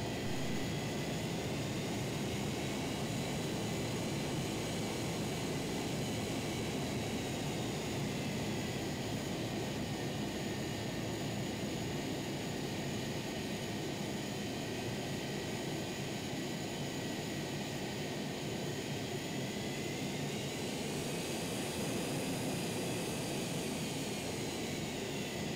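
An MD83 jet airliner in a flight simulator taxis toward the runway at Vienna in the early morning, its engines holding a steady, loud, continuous drone with a thin high whine running on top throughout.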